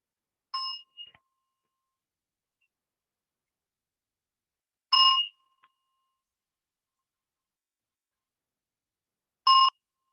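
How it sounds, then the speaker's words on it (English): A meditation bell is struck three times at an even, unhurried pace, each clear, bright ring decaying quickly into silence before the next, with no talking in between. "I'll ring the bell 3 times to bring us into this moment with your body."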